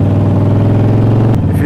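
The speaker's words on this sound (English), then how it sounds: "If you want to buy a Harley, buy it purely for the exhaust." A 2013 Harley Davidson 1200 Sportster idling loud and close, its exhaust giving a deep, rapid, lumpy thump that cuts off sharply near the end.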